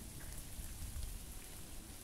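Steady rain falls around an abandoned house in dense woodland in Rio Grande do Sul, a continuous, even hiss of drops on surfaces close by with no voices.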